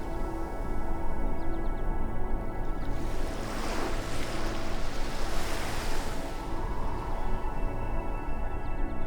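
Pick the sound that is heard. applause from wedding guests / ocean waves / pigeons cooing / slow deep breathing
ocean waves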